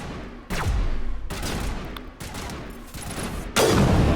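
Gunfire crackles in the Mass Effect Legendary Edition video game during a fight against Geth snipers, with several loud bursts of rapid shots and hard, echoing cracks, the heaviest volley at the end.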